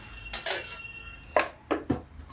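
A metal pan is set down on a gas stove, making several distinct clanks and clatters: one early pair, then three sharper knocks in quick succession near the end, all close by and with no talking.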